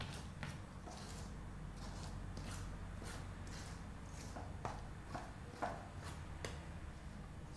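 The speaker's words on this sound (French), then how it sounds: "On va mélanger à la cuillère d'abord" A spoon stirs flour into marble cake batter in a bowl, giving soft, faint, regularly spaced scrapes and knocks against a low background hum, with no talking.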